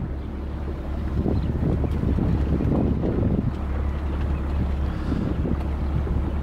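A motor boat runs underway on the Müritz lake near Waren, its steady engine drone mixed with rushing water and gusty wind buffeting the microphone throughout.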